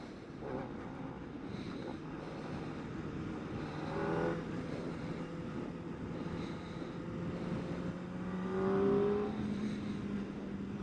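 A 2024 Kawasaki ZX-4RR motorcycle with a small fault runs its engine steadily, swelling into two rising revs around the middle and near the end, with a whining tone climbing over a rough, continuous drone.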